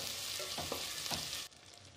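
Ginger garlic paste frying in a pan, giving a dense, steady hiss with a few soft stirring scrapes. It stops abruptly near the end, leaving quiet.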